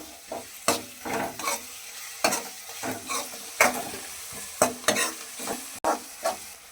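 Coconut rice with two dried red chillies and turmeric is stirred in a pan with a spoon, giving close, irregular scraping strokes about once or twice a second over a faint sizzle, with no voices.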